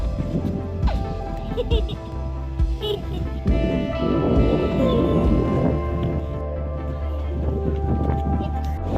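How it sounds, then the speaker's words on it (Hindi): A morning thunderstorm with rain in a village, heard as a steady rush of rain and rumbling under a voice speaking throughout, with occasional sharp knocks and crashes. "सुबह सुबह के बहुत ज़्यादा तूफान आ गया।"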